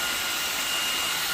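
A LEVOIT LVAC-200 cordless stick vacuum runs steadily while cleaning dust off a ceiling fan, a continuous airy whine and hiss held at an even level for a brief moment, close and without voices.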